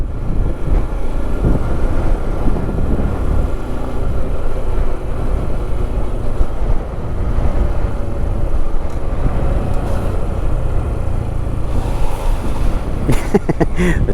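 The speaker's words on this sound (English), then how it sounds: "The tread going through that water sounds funny." Car tires roll through floodwater on a street in Katy, Texas, after Hurricane Beryl, a steady rushing, churning swish of water under the vehicle with wind noise over the microphone, continuous throughout and close by.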